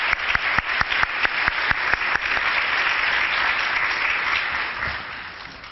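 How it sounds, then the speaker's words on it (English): Audience applause for an award recipient at the 2019 Greyhound Gala, opening with a few sharp individual claps that quickly swell into a dense, sustained round of clapping before gradually thinning out. "Please give a round of applause for Lexi Enger."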